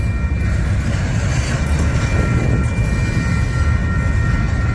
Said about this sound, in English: suddenly the 4011 Union Pacific was real going